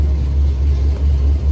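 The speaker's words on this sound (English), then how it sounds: "it's probably the first time it's been revved out like that." A 1998 Pontiac Firebird Formula V8 revving hard, a loud, close, deep engine roar held steady with a slight dip and recovery over a brief moment.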